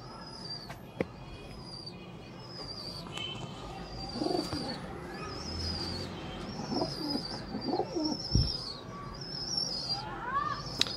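Soft, low coos of a rooftop mouse-type pigeon repeat a few times nearby, with other birds chirping faintly in the background.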